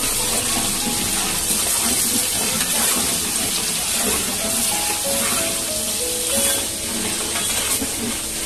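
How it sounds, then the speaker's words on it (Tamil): Cinnamon, bay leaf, cloves, poppy seeds and fennel sauté in hot oil for a tomato rice dish, giving a steady, close sizzle and crackle that holds evenly throughout with no talk. "எண்ணெய் காஞ்ச உடனே பட்டை, பிரிஞ்சி இலை, லவங்கம், கசகசா, சோம்பு கொஞ்சோண்டு சேர்த்துக்கிட்டு கொஞ்சம் லைட்டா வதக்கிடணும்."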